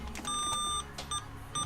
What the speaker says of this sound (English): that's the parking sensor beeping